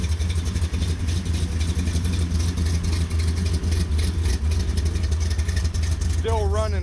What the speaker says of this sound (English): I figured we would fire up some of our favorite vehicles.